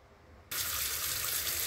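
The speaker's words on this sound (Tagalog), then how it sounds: "At bago ko hiwain, syempre, huhugasan muna ang mga gulay." Vegetables for pakbet are rinsed under a kitchen tap; after a brief quiet moment the water abruptly starts and pours in a loud, steady, close rush for the rest of the clip.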